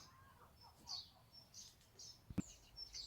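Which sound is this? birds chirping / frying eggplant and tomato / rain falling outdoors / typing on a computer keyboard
birds chirping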